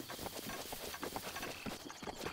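Hooves clip-clop at a steady trotting rhythm as a horse moves in The Legend of Zelda: Breath of the Wild, the soft repeated thuds set against a constant ambient wash.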